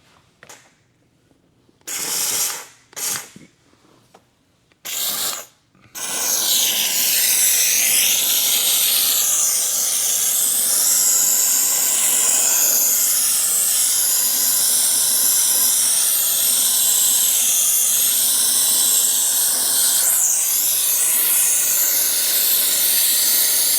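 A handheld steamer hisses steadily during window tint removal on a Toyota FJ Cruiser, a few short bursts first and then a loud, continuous high hiss that runs without pause.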